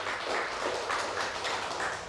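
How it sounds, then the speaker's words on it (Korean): Church congregation clapping together during a Sunday service, a steady dense wash of applause sustained through the whole stretch with no voices on top. "우리 서로 박수 한번 서로 간에 동해 박수 보내겠습니다."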